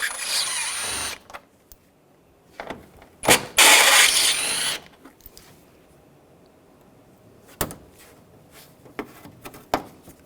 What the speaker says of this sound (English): Using the 10mm socket, take these bolts out.